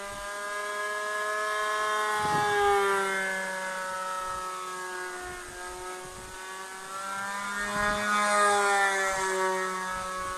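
A model Skymaster aircraft engine drones steadily below full throttle, a sustained tonal whine whose pitch bends up and down as the plane passes near and away, loud and unaccompanied by talk.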